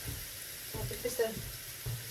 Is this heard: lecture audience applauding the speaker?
no